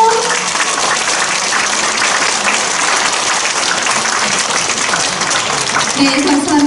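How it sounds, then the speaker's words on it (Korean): An audience in a Seoul district hall claps at a Pyongyang art troupe performance: steady, full applause throughout, with a host's voice briefly audible near the start and the end. "박수 한번 칠까요?"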